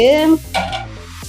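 Chicken pieces dropped into a hot pan for honey garlic chicken, giving a brief stir and sizzle with a short clatter of utensil against the pan, loud and close.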